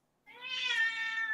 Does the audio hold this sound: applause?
no